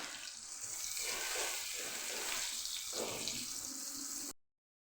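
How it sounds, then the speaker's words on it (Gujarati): Chopped onion sautéing in hot oil with cumin and asafoetida for a Kathiyawadi green chickpea curry: a steady, close, continuous sizzle with no talk, cutting off abruptly near the end. "જે ડુંગળી સુધારીને રાખેલી એ ઉમેરી દઈશું અને સાતડી લઈશું"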